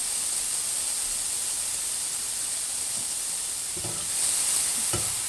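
Tomatoes sizzle in a hot iron skillet for ratatouille, a steady close hiss broken by a couple of brief utensil clinks near the end.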